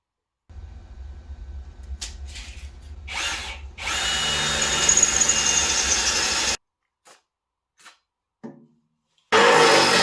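A power drill whirs loudly in a long run that rises in pitch and intensity, then stops; a few short trigger bursts follow before a final loud spin-up, drilling holes while restoring an old Ariens 824 snow blower.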